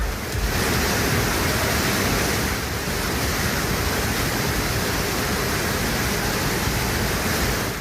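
Heavy water pours continuously at Hogenakkal waterfall, a steady, loud broadband roar with no break.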